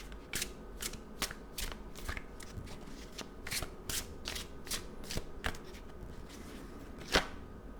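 Tarot cards being shuffled by hand, a steady run of crisp riffling bursts close up with one sharper snap near the end, no talking over it.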